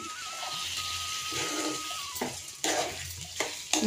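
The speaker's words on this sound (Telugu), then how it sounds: "ఇంకా కర్రీ అయితే ఒకసారి కలిపేసుకుందాం" A spoon stirs aloo kurma curry in a pan, soft scraping and gentle sizzling at low volume, with a few louder stir strokes toward the end.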